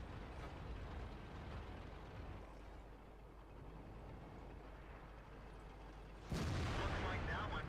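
An IS-6 tank in World of Tanks fires its cannon once, a sudden loud boom near the end that breaks a steady background of rumbling battle noise.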